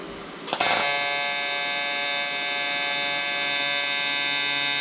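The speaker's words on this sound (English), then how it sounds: "I'm gonna turn my gas onto the welder and get this thing set up on a little tripod" A gas welder starts up after a brief click and then runs with a steady, loud electric buzz and hum that holds constant to the end.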